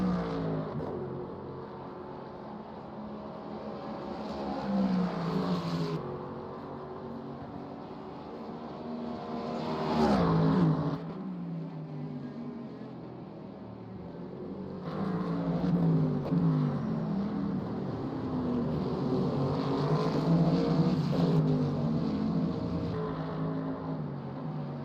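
Ferrari and Mustang GT3 race car engines at Fuji in a racing game, rising and falling high-revving whines with abrupt shifts and surges, steady and close, no talk.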